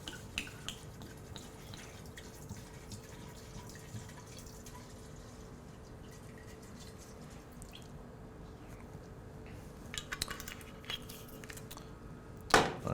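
Jim Beam rye whiskey, 700 ml, is poured into a jar as a faint, continuous liquid trickle with light drips and clinks, ending in a brief louder splash.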